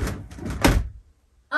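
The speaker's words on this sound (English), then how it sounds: "And then, slide out the door." The side door of a 2024 Carthago C Tourer 145 RB LE motorhome slides open with a close rolling rumble that ends in a solid thunk, then a short quiet before a voice begins.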